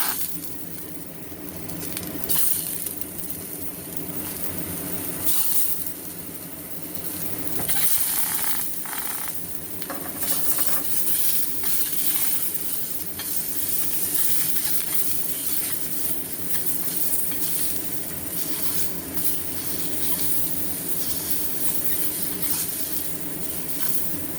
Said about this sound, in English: Of course, a little bit burnt because the oil is hot. And then add the scallops.